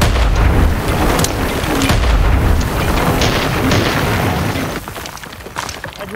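Video game grenade explosion in a squad battle at Red River Port, heard as a loud, heavy boom with rumbling blasts and crackling gunfire throughout, fading somewhat toward the end.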